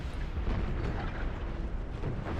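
Massed French artillery fire in a Napoleon: Total War 4v4 battle: a dense, continuous rumble of overlapping booms and cannon blasts, loud and unbroken with no voices.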